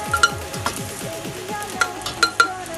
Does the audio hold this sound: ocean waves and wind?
no